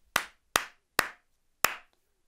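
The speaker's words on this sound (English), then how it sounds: "If I clap in this room," Four sharp, separate hand claps sound in a lively, slightly bright studio control room, each one followed by a short reverberant tail before silence.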